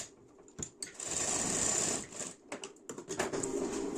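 A sewing machine stitches a strip onto a blouse shoulder seam in quick close runs, stopping and starting several times with brief pauses and short bursts near the end.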